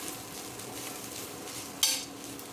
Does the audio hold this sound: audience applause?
no